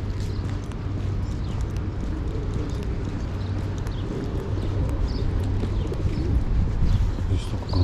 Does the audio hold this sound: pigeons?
yes